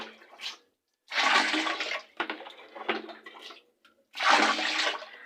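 Water poured into a toilet bowl during bathroom cleaning comes in several separate gushing, splashing bursts with short pauses between them, close and fairly loud.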